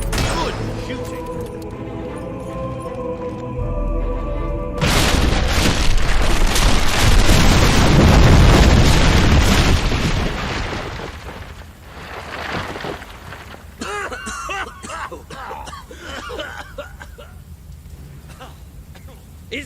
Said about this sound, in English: Sabine, you almost blew us up.